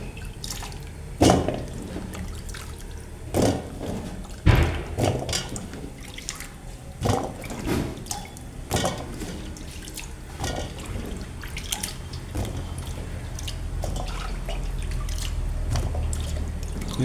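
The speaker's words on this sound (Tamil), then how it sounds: "நாங்கள் நல்ல வடிவாக கழுவி இந்த ஊற்றி எல்லாம் போகிற மாதிரி கழுவுறோம்" Cut pumpkin pieces are rinsed in water for a Jaffna-style curry, giving steady splashing and dripping with scattered louder sloshes and knocks against a bowl, close by, with no voices.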